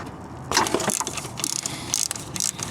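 A ratchet clicks in quick bursts while loosening 10 mm bolts on a Toyota Corolla, close and fairly loud, with short pauses between runs of ratcheting.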